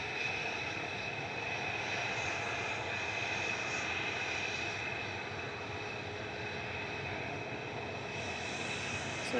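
Aircraft engines run steadily at Manchester Airport as planes taxi, including an Airbus A380, a continuous loud broadband roar with a high whine held throughout, no talk.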